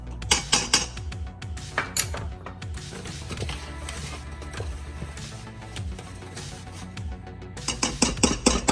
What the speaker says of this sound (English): Stir that until it's smooth.